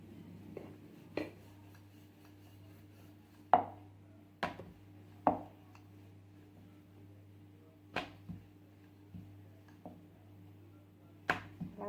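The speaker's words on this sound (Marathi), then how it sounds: "हलक्या हाताने लाटायचं आहे" A rolling pin works laccha paratha dough on a board in a home kitchen, giving about eight sharp, scattered knocks and taps over a steady low hum, with soft scraping between them and no talk.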